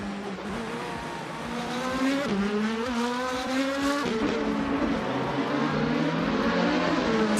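Race cars in a video game scream past as a dense pack of engines rising and falling in pitch through gear shifts. They stay loud and continuous throughout, with no talking.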